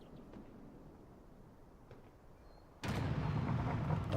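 In the Delta Force Extraction shooter, a distant low rumble gives way to a sudden heavy explosion blast that stays loud and rumbling for the last seconds.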